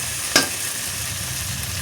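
Crab brain fries in oil over a low gas flame, giving a steady, even sizzle after one brief clack of a utensil near the start.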